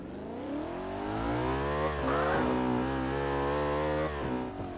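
A race car engine in Garry's Mod revs and whines, its pitch climbing and dropping in smooth sweeps as it accelerates and shifts, loud and close.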